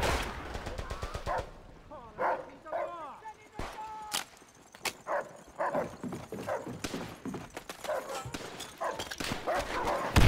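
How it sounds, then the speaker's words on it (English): Attack dogs in Call of Duty: World at War multiplayer bark and yelp in repeated bursts, mixed with gunfire and game sounds, while a player talks over them. "Oh, it's our dogs."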